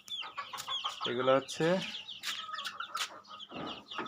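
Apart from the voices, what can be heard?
chickens and chicks clucking on a rooftop farm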